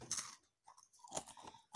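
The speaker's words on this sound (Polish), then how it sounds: "Uwaga, chrupnie." A small crunchy snack is bitten with a sharp crunch and then chewed in a few crisp bursts, close and fairly quiet.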